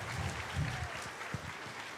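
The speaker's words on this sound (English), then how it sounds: "Let's keep the applause going" Audience applause fills a convention hall at TennoCon 2024, a steady wash of clapping at moderate distance with some low crowd rumble beneath, continuing throughout.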